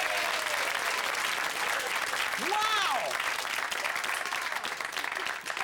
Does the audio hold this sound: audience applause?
yes